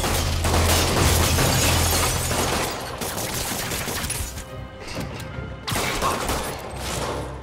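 Gunfire in a Spider-Man video game comes as a loud, dense fusillade of shots and impacts, heaviest at the start, easing in the middle and then surging again near the end.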